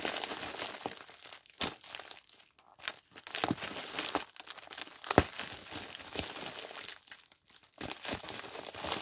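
Parcel packaging is torn open by hand, with irregular crinkling and rustling and a few sharp rips and crunches, close up and fairly quiet.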